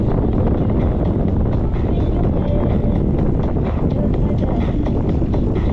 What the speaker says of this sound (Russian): Сегодня ветрено так